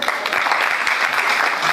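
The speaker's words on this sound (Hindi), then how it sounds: "पीर ज़ैद साहब के लिए भी तालियाँ दी" Audience applause at a Mehfil-e-Mushaira oath ceremony held at an arts council gallery, a dense continuous clapping from a crowd that stays steady and fairly loud throughout.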